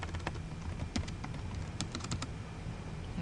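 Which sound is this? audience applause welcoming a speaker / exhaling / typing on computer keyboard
typing on computer keyboard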